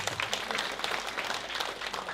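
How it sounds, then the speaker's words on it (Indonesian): Dense, steady applause from an audience, a crowd clapping together at even loudness for a couple of seconds with no voices on top. "Tepuk tangan untuk ST."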